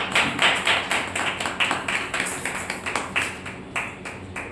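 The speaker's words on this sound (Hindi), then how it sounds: "इस समय जैसे खड़े होते हैं हम जो ताली स्वागत करेंगे परमेश्वर के दास" Indoor church congregation clapping in welcome for a preacher, a rhythmic run of loud, sharp claps in a steady beat that carries on without pause.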